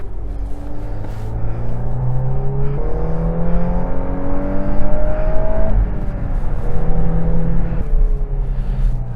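A 2023 Volkswagen Golf R 20th Anniversary laps the Road America race track through a chicane, its engine note climbing and falling in repeated surges as it accelerates, loud and close with a steady rumble underneath.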